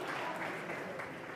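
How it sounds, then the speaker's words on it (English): A classroom of students applauding together during a life sciences lesson, a steady dense patter of many hands clapping at close range, with a voice speaking over it. "Can we please applaud everybody?"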